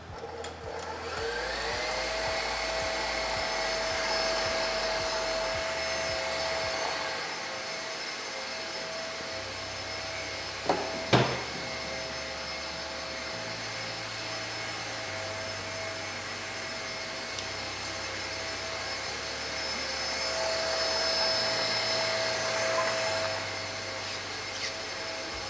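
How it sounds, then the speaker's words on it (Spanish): Electric mixer whipping egg yolks and sugar at high speed in a pastry class, a continuous loud motor whine holding steady for about 25 seconds, with a brief clatter midway and no voices. "voy a empezar a batir esto a velocidad alta para que empiece a emulsionar"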